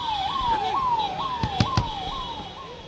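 An ambulance siren wails in a steady repeating rise-and-fall cycle as it leaves Cooper Hospital with a funeral procession in Mumbai, loud and fairly near, with street noise and a few sharp knocks underneath.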